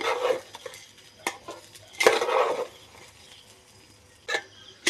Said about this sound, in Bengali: চালগুলো একটু সময় ভাজা করে নিচ্ছি